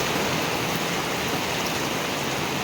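Heavy rain pours at a campsite during stormy weather, a dense, steady hiss of water that stays loud and unbroken throughout, with no voices.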